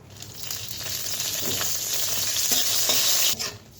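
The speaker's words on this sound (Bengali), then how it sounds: "তো এখন ভেজে নেব শুকনা লঙ্কা।" Dried red chilies sizzle in hot oil in a pan for egg bhorta, a continuous close crackle that swells and then eases, broken by light stirring knocks, with no voices.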